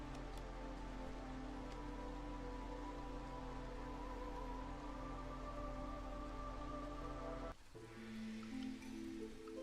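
Steady drizzle ambience from the video game Against the Storm, a continuous soft hiss of light rain with a sustained low tonal bed, shifting abruptly near the end to a thinner texture; no voices.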